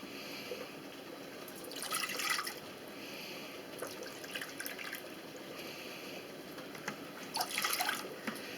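Apple cider vinegar is poured into a pickling brine, with a few short, soft bursts of splashing, trickling liquid separated by quiet hiss, faint and close.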